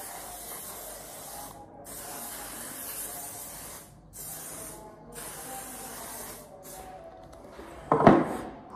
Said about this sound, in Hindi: सबसे पहले बॉडी स्प्रे।